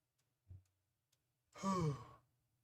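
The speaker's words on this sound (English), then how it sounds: "Sorry for the yawn." A person yawns once, a drawn-out voiced exhale rising and falling over about half a second, faint and close, after a soft brief breath.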